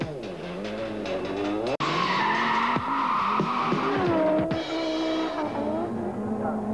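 Touring race cars in a 1994 Supertouring race at the Nurburgring, an Audi leading and lapping back markers, roar past with loud engine howl, shifting revs and tyre squeal filling the whole stretch, with no speech.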